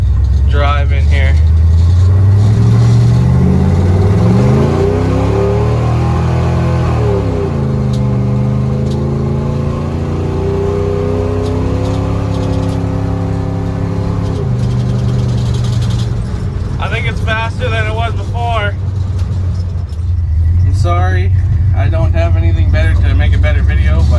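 A 1977 Dodge D200 truck drives off, its engine loud and close, revving up and down through gear changes with a rising and falling drone, while someone talks over it in places.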